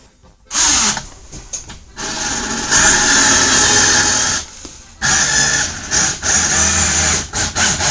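A power screwdriver drives a long 7.5 cm screw into a wooden planter, whining in loud sustained bursts with brief pauses between, the pitch dropping as the screw bites deeper into the wood.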